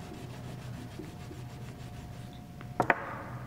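Honing compound rubbed onto a leather strop used for sharpening woodcut carving tools: a soft, steady, close rubbing over a low background hum, ending with two brief, sharper scrapes.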